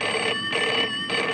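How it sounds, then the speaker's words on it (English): A telephone rings at a bus shelter in a 1977 comedy, its bell trilling in two clear bursts separated by short gaps, loud and close with no voices. "A phone ringing at a bus shelter?"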